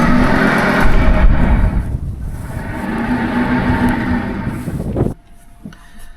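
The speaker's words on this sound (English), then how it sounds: "So we got to put bearings in this electric motor" An electric motor with worn bearings runs loud and rough nearby, a gritty droning whir that wavers in pitch, then cuts off abruptly, leaving a quieter background.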